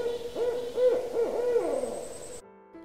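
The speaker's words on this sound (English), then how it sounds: "The barred owl asks, "Who cooks for you? Who cooks for you all?"" A barred owl hoots its rhythmic call, a run of several clear, resonant hoots, the last ones sliding downward, close and alone before the sound stops abruptly.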